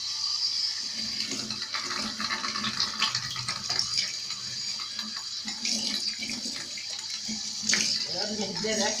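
Water runs from a kitchen tap onto a marble counter and sink during cleaning, a steady hiss and splash with clattering handling sounds throughout, softer talk faintly underneath.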